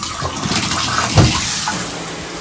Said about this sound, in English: I'm going to turn the shower head on. And again, show you the water pressure.